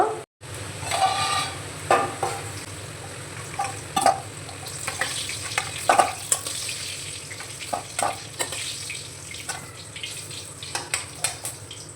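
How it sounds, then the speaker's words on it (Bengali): Salted, turmeric-coated potatoes fry in oil with a steady background sizzle, punctuated by repeated scraping and stirring clatters from a utensil, close and moderately loud throughout with no talking. "তেলের মধ্যে লবণ আর হলুদ মাখানো আলুগুলো তুলে দিয়েছি লাল লাল করে আলুগুলো ভেজে নেব"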